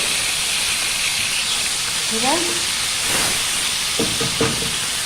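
A vinegar-and-garlic liver mixture for Alexandrian-style liver hisses steadily as it hits hot oil in a pan, a loud continuous sizzle with a voice speaking briefly over it.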